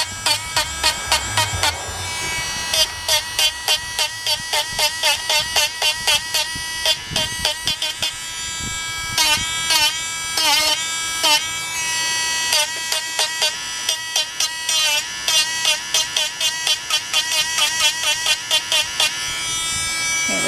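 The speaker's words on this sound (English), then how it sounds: "back to the Dremel." A Dremel rotary tool grinds away at a broken doll, its high buzzing whine pulsing on and off in short repeated bursts throughout, close and fairly loud with no talking.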